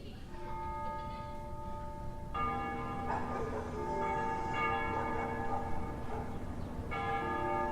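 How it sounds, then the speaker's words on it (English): Church bells ringing at dusk for the liberation of the capital in the video game Ace Combat Zero, several sustained tolls that change at intervals and ring on steadily from a distance. "They ring the bells here at dusk to honor the liberation of the capital."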